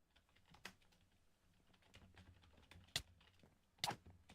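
Quiet, irregular keystrokes on a computer keyboard during a podcast session, scattered soft taps with a few louder clacks standing out, no voices.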